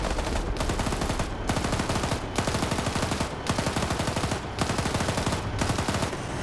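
Sustained machine gun fire in a multiplayer military video game match, loud continuous bursts of rapid shots broken by brief pauses roughly every second, with no talking.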